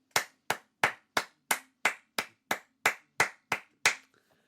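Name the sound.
single person clapping hands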